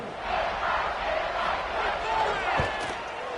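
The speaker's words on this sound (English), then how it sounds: "this crowd is buzzing after that last score" A packed football stadium crowd in an NCAA college football game, a steady roaring murmur with faint cheers, heard under a play-by-play commentator's voice throughout.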